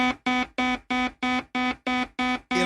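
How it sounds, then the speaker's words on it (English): An electronic alarm blares in steady, evenly spaced beeps, about nine loud buzzing pulses in a row, harsh and insistent with no voices. "the alarm goes off"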